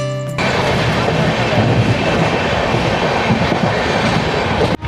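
A train rumbles along the rails, a loud continuous roar and clatter heard from close inside the Humsafar Express from Kolkata to Kashmir, cutting off abruptly at the end.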